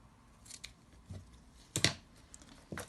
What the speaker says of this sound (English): I'm going to use this yellow ribbon. So I'm just going to cut 2 pieces